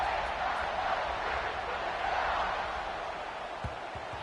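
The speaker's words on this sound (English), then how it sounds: "this crowd is buzzing after that last score" A stadium crowd at a Washington versus Ohio State football game hums with a low, steady, distant murmur after a score, with a commentator's voice over it.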